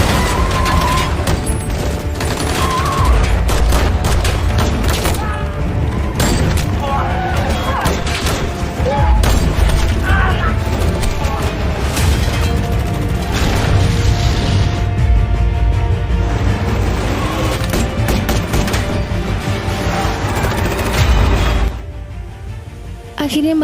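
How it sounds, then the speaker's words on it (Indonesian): A chaotic action scene from the Korean drama Vagabond: dense gunfire and crashing impacts aimed at a car, sustained and loud throughout, with mechanical clatter and music-like layers mixed in. "Tembakan demi tembakan terus diarahkan ke mobil Taewong dan rekan-rekannya."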